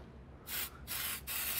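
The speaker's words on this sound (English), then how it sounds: "I'm going to spray it around all the suspect areas" Foot powder sprays from an aerosol can onto a vehicle engine in three short hissing bursts, close and fairly loud, with brief pauses between them.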